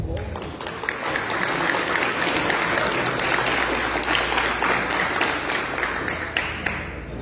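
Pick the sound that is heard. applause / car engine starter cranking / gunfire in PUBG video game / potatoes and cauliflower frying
applause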